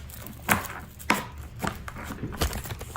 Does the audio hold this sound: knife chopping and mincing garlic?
yes